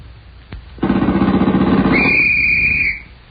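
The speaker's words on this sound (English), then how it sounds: "the sound man will give us a couple of seconds of machine gun and a police whistle" A radio studio sound effect of a machine gun burst, a rapid rattling run lasting about two seconds, overlapped at the end by a shrill police whistle blast, after a brief quiet start.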